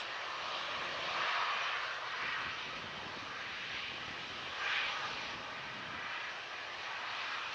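Emirates airliner at Manchester Airport, a faint, distant jet engine drone with gentle swells in loudness and no voices over it.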